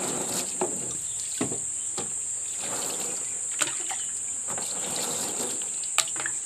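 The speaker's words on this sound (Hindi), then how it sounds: "इस पर हम फिर से पानी डालेंगे" Water is poured over a screen printing screen while exposed matter is rinsed open, a steady close hiss of flowing water with occasional faint taps and splashes.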